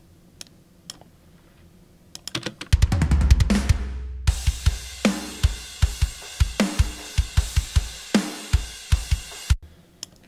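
RS Drums library drum kit playing a metal pattern with no processing, loud and upfront: a few sparse hits, then a rapid fill and crash-heavy groove of steady kick, snare and cymbal strikes, ending abruptly.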